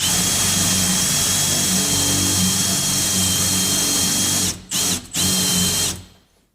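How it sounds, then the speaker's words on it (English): A power drill whines steadily at high speed while boring into a wooden door, stutters briefly twice near the end, then winds down to silence. "So we're going to go ahead and drill that one."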